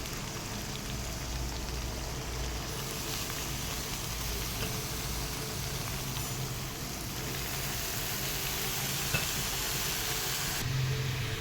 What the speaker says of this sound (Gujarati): હવે તેમાં મેથી એડ કરી દઈશ.